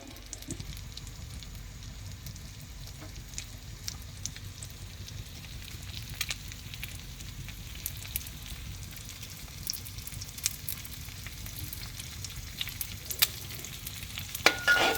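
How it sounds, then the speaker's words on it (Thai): An egg frying in a pan, a low, steady sizzle with scattered crackles and pops that grow a little busier toward the end, fairly faint and close, with no voices. "ได้ทีก็เอาไข่ลง เอาไปทอดคุกๆไว้นะครับ"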